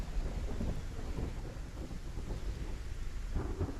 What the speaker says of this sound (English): These storms are great.